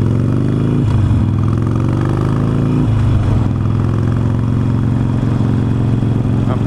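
A Harley-Davidson Sportster motorcycle being ridden, its engine throbbing loudly and steadily up close with gear changes and shifting revs, wind noise blended in and no voice over it.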